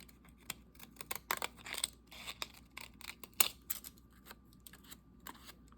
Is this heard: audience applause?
no